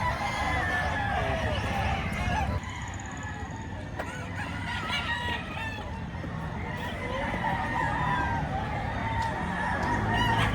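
Chickens cluck and a rooster crows amid a busy yard, with people talking in the background throughout.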